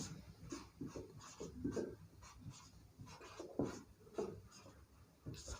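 Pen or chalk scratches steadily while the laws of light reflection are written out in a classroom lesson, making soft rhythmic strokes and scrapes that sit close and quiet, with no talk over them.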